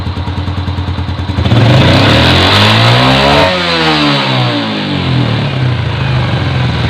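A Yamaha Jupiter Z1 FI motorcycle engine idles with a pulsing putter, then revs up loudly and holds a high, strained pitch before easing back down, close and alone.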